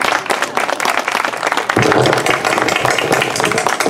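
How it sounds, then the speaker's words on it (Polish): Spectators at a show jumping competition in a stable setting burst into applause, dense rapid clapping that swells louder partway through and carries on for a few seconds without talk. "Wielkie brawa, szanowni Państwo."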